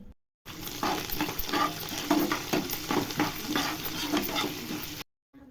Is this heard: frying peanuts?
yes